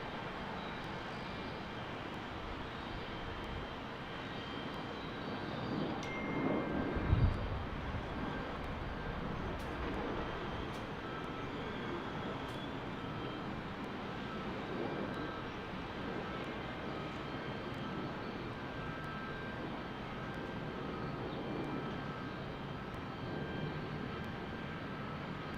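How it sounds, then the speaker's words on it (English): An AT-2300 airliner takes off from Salt Lake City, bound for Orange County, its engine roar a steady, distant, fairly faint rumble that swells slightly midway and holds throughout. "So this AT-2300 that's about to take off is headed to John Wayne,"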